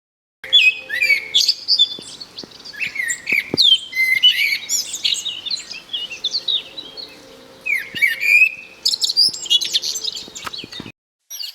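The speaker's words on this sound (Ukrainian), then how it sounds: "Цей справжній соловей, якому ніхто не заважає виводити свої рулади." A common nightingale sings in the open near the Uzh river, with rich varied trills, whistles and chirping phrases in bursts, clear and close, with a brief pause near the end.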